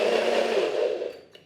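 A kitchen blender purees drained tinned Chinese lychees with a steady, loud whirring roar that winds down and fades over about a second.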